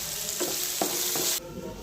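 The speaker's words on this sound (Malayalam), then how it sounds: "അതിലേക്ക് സവാള കൂടി ചേർത്തിട്ട് കുറച്ച് ഉപ്പ് ഇട്ടിട്ട് വഴറ്റിയെടുക്കാം." Sliced onions and curry leaves sautéing with salt in a pan, a close, steady sizzle with three soft stirring knocks, then the hiss drops off abruptly near the end.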